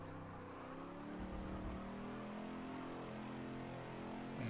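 Ford Mach1 race car in a racing game at Watkins Glen accelerating out of a corner: a fairly quiet engine whose harmonic whine climbs steadily in pitch as power is applied, with a brief low thump mid-pull.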